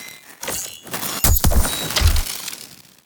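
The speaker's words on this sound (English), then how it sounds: "the electricity stuff sounds like this" Designed robot electricity sound effects: crackling electric zaps with sharp, buzzing bursts and a few heavy low thumps, loud and close, building to a cluster of hits near the middle.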